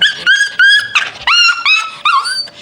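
A Bichon Frise dog at a vet hospital whimpers and whines in a run of high, wavering cries with brief pauses, close and loud, with no talk.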